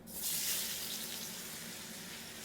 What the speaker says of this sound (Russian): Слегка обжариваем